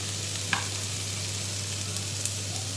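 Onion and garlic frying in a pan, with the garlic turning crispy, give a steady close sizzle with a couple of faint stirring taps over a low constant hum, and no one speaks.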